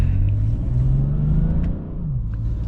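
A BMW with a DCT gearbox accelerates under load, its engine drone steady and close, then a brief dip in loudness marks a quick gear shift before the engine note resumes at a slightly lower pitch.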